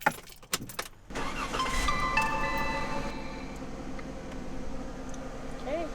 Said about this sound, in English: I will turn the car on